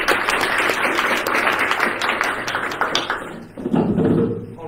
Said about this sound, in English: I want to give Tarek a hearty round of applause